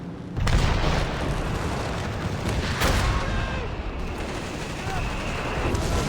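Artillery barrage in the strategy game Company of Heroes 3, playing as the US Forces: a steady roar of distant shelling and gunfire runs throughout, with a heavier boom near the start and another midway.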